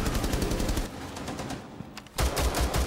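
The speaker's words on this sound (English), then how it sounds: "He's shooting right through that." Rapid automatic gunfire in Rainbow Six Siege, loud bursts of machine-gun shots with a brief lull before a second heavy volley, game sound only with no talk.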